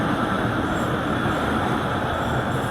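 Marvi Express passenger train at Shadipalli railway station in Pakistan, a steady, dense rumble of rolling rail cars that holds at a constant loud level throughout, with no voices.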